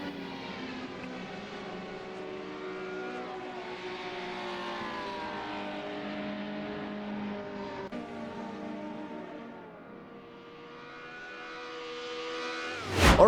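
A Ferrari V12 race car runs a lap at Imola at speeds up to 280 km/h, its engine holding a steady loud drone that shifts pitch with gear changes, dips briefly and then swells again near the end.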